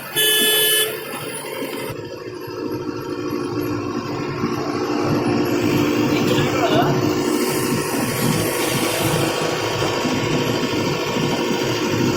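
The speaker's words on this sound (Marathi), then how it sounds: "एसी चालू झाली एसी." A car's air conditioner switches on and settles into a steady, loud blower rush that fills the cabin, with occasional voices and passing horn-like tones in the background.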